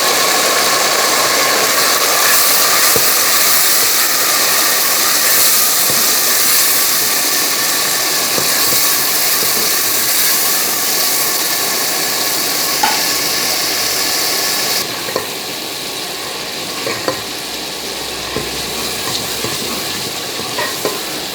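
Tomatoes and green chilies sizzle steadily in a hot pan for a village-style sabz cholay salan, a loud continuous frying hiss with occasional stirring clinks and scrapes, with no talking.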